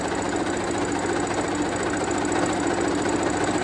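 A sewing machine runs continuously on a straight seam through newborn ruffle socks, a steady, dense motor hum and rapid needle chatter with no pauses.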